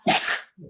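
A single loud, close sneeze bursts out sharply, followed by a brief faint vocal sound.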